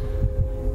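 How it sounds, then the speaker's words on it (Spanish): Heartbeat effect in a horror audio drama: steady low thumping pulses, roughly three beats in under a second, close and heavy over a constant low hum, with no voices. "cada latido de su corazón retumbaba en su pecho como"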